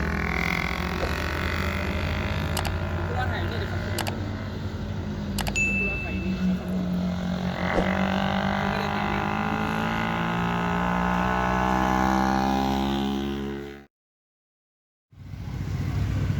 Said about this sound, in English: Going up on his motorbike.